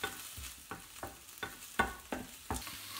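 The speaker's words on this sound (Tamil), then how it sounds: "இஞ்சி பூண்டு வந்து லேசாக வதக்கிட்டு வெங்காயத்தையும் போட்டு வதக்கலாம்." Ginger, garlic, onion and tomato sauté in a pan with a low sizzle, broken by about seven regular scrapes of a spoon stirring through the mix, close and alone without any voices.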